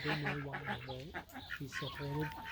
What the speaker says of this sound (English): he's talking to the other ducks through the fence